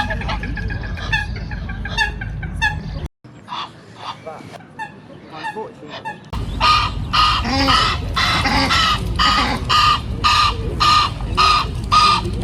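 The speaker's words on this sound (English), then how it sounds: "So we want to film that Egyptian geese." Egyptian geese at a wildlife nature reserve honk and cackle in loud, overlapping bursts, a brief lull mid-way before a dense, sustained chorus of calls close by.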